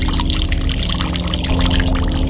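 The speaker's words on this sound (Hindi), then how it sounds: "उसी रात नल का पानी अचानक अपने आप बहने लगा" Tap water pours steadily into a basin at close range, a continuous splashing flow with no talk over it.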